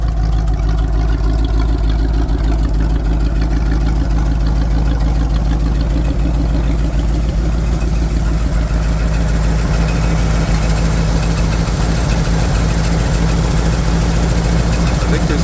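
A heavy engine idles with a worn muffler, a steady, loud low rumble and vibration holding unchanged throughout.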